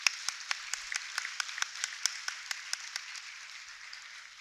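Sparse, distinct claps from just a few people at a university foundation day ceremony, about fifteen sharp hand claps in an uneven rhythm that trail off softly, with no voices.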